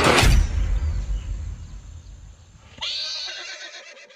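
A racehorse in a stable gives a loud, shrill neigh at the start that fades out, followed by quieter stable noise and a brief clatter near the end.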